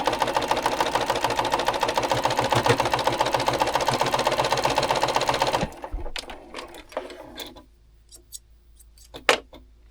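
A sewing machine stitches quilt block seams in a fast, steady mechanical run for about six seconds, then stops, leaving scattered clicks and light handling noises.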